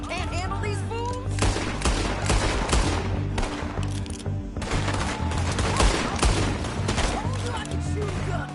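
Rapid volleys of gunfire from a Red Dead Redemption 2 shootout, loud and close, with shots overlapping in dense bursts over game music and scattered voices.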